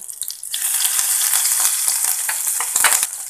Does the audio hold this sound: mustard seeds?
yes